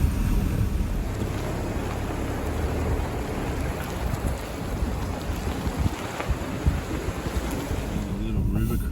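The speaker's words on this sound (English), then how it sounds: "A little river crossing" A 4WD vehicle drives through a river crossing, with a continuous loud rumble of churning water and engine noise, irregular splashing bursts, and occasional low voices underneath.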